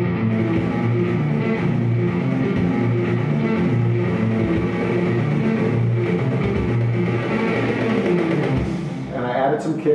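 A programmed drum corps snare roll and full dense mix build steadily toward a heavy riff, loud and continuous throughout.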